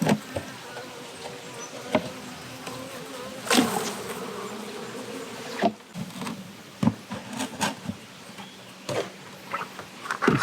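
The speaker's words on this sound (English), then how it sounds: "Ooh, hungry bees." Honey bees swarm around a small blue hive feeder, their steady close buzzing rising and falling as individual insects pass near, with scattered sharp scraping clicks and no voices.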